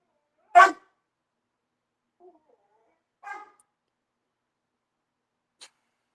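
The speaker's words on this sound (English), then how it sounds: "I do apologize in advance for the dog." Indoors, a dog gives one sharp, close bark, then a faint yip and a softer second bark, with long quiet gaps and a tiny click near the end.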